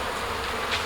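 A dense, steady buzz of honeybees rises from an opened hive during a spring honey super inspection, close and continuous with slight swells, no one speaking.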